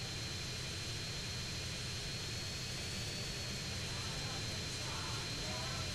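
Airplane engine droning in GTA San Andreas, a steady, fairly quiet hum with no break across the few seconds.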